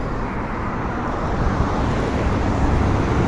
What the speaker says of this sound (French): Petite pause au bord de l'autoroute.